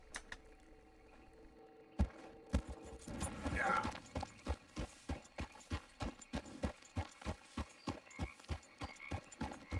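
Horse hooves clip-clopping in Red Dead Redemption 2, a steady close rhythm of hoofbeats that starts sparse and settles into an even trotting pace across the whole stretch, with faint creaks and jingling tack underneath.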